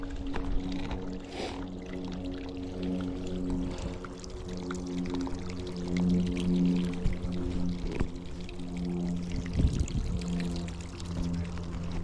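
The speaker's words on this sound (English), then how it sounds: "Flowing water." Water flows steadily along an Appalachian Trail day hike near the Lemon Squeezer, a continuous pouring wash that holds at an even level throughout with no talking.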